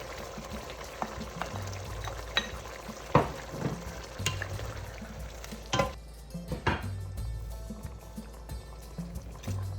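Onions frying in a pot for meat qorma: steady low sizzle with scattered scraping stirs and clinks of a spoon against the pot, moderately close, no talking.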